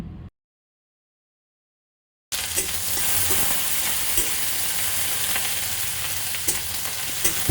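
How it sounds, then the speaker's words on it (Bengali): Chopped garlic added with onion to hot oil in a pan while cooking masoor dal, sizzling steadily and loudly up close after a short silent gap, with faint stirring clicks and no talking. "দিয়ে দিচ্ছি কুচনো রসুন"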